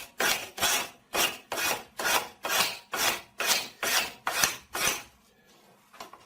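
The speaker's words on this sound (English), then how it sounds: "we thoroughly and carefully clean the area itself with a sharp boot knife." A sharp boot knife scrapes a chair surface clean in about ten quick, even strokes, each a loud rasping scrape close by, with a short pause and a faint sound at the end.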